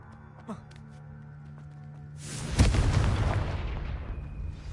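A fiery Confringo blast spell in Hogwarts Legacy bursts with a sudden loud boom, then a rumbling, crackling roar that slowly trails off.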